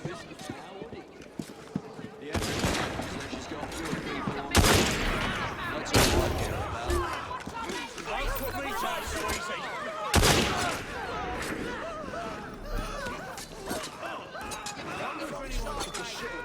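A volley of gunfire from a squad in Assassin's Creed Syndicate crashes out in several loud broadband bursts amid continuous clattering action and scuffling, and voices speak over the din.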